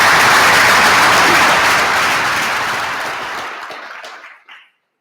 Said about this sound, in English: Let's give a round of applause for being with us for over 10 years.